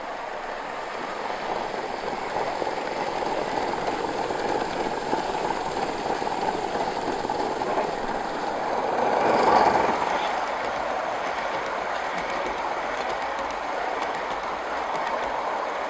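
A Gauge 1 live steam model of the Merchant Navy locomotive 35028 Clan Line runs down a straight and gathers speed, giving a steady rolling rumble with faint clicking that swells slightly as it passes close, then eases off.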